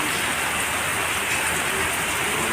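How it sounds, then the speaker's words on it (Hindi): Heavy rain pours down in a loud, unbroken roar of dense drops hitting surfaces, steady throughout with no voices. "कितनी भयंकर बारिश हो रही"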